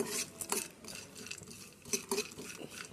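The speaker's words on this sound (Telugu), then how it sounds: "కొంచెం నెయ్యి వేసేసి ఈ డ్రై ఫ్రూట్స్ అనేది వేయించేసేయండి" A spoon stirs and scrapes dry fruits frying lightly in ghee in a metal pan while Karachi halwa is being made, giving a close run of soft scraping strokes with a few small clinks.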